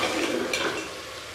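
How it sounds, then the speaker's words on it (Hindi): Mutton chops sautéing in a pot during the final bhuna stage of a home-cooked curry, a close, dense frying hiss with a quick scrape of stirring partway through, and no voices. "अब तो सिर्फ भुनाई रहेगी, वो हम थोड़ी सी कर लेते हैं"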